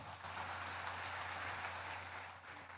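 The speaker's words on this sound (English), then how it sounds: "Please give them a round of applause." Audience applause at a celebration during President Ferdinand R. Marcos Jr.'s visit to Palawan, a dense, even roar of many hands clapping, steady throughout at moderate level and easing slightly near the end, with no talking.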